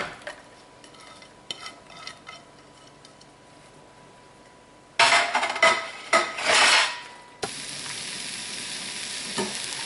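Mushrooms and onions hit a hot pan for a leftover rib roast dinner, bursting into loud steady sizzling and frying with a few utensil clatters and stirring scrapes, after a quieter stretch of faint kitchen clinks.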